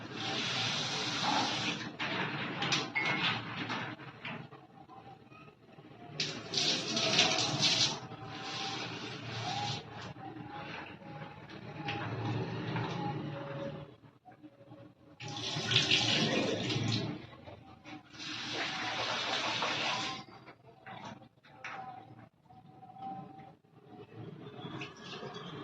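Running water splashes steadily as food is washed in a home kitchen while preparing a healthy dinner, with bursts of stronger flow and some clatter, and no talk.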